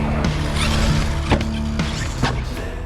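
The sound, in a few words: Team Corally Kronos XTR RC car driving on track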